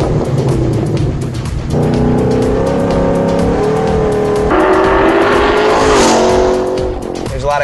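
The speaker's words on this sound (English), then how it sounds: "What the H-pipe actually does is gives you a more throaty, deeper sound exhaust note" A 2013-14 Ford Shelby GT500 with an H-pipe exhaust revs and accelerates, its loud, deep engine note climbing and shifting pitch in steady surges, close by and with no talking over it.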